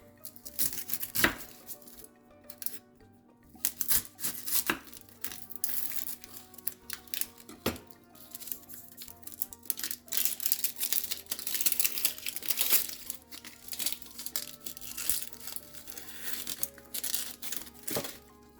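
A yellow onion being prepared and chopped on a board for Cuban-inspired rice and beans, with crinkling of papery skin and repeated knife chops and taps close by, irregular in rhythm and without speech.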